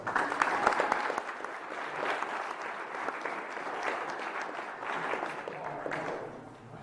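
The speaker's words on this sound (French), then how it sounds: "il mérite vos applaudissements et en tout cas votre reconnaissance" An audience at a prize ceremony for a trophy claps steadily, a moderately loud, continuous patter that swells at first and then fades toward the end, with faint voices underneath.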